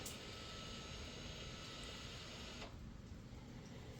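Electric parking brake motor on a Kia retracting during a brake pad change, a steady faint mechanical whir that holds evenly, then shifts tone and drops slightly partway through.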